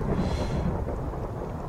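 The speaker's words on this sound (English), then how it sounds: "Sorry for the thunder and lightning." Thunder rumbling from a storm in a Minecraft modpack world, a dense low roll with rain-like hiss, steady and fairly close, no voices.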